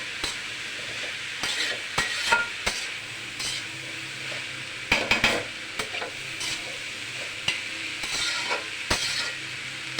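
Cauliflower with turmeric stirred in a hot pan, a constant sizzle of frying under repeated sharp scrapes and taps of a spatula against the metal, close by and with no talk.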